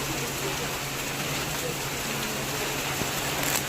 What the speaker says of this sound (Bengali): আর দেখো কেমন জোরে জোরে বৃষ্টি পড়ছে